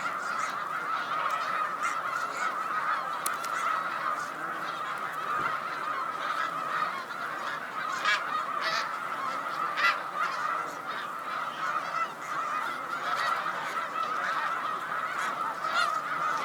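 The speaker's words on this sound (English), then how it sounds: "we're looking mainly at you know, these these snow geese that are here on land" A large flock of snow geese on Cayuga Lake honks continuously, a dense overlapping chorus of calls at steady loudness with no talking.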